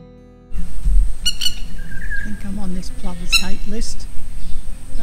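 A plover calls in sharp, repeated shrill cries over wetlands, near and fairly loud, with other birds chirping and steady outdoor background noise throughout.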